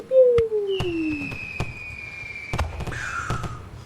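A voice imitates fireworks with whistling, descending and rising squeals and sharp popping bursts, close and fairly loud, repeated over a few seconds.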